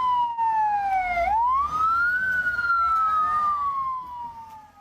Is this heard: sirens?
yes